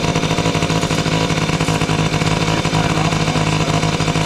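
Yamaha Tri-Zinger three-wheeler with its small rebuilt engine running steadily nearby, a loud, continuous buzzing drone that holds an even pace from start to finish with no talking over it.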